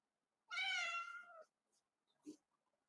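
A cat on an 85-degree day lets out one loud, close, drawn-out meow, followed by quiet shuffling and a brief soft noise.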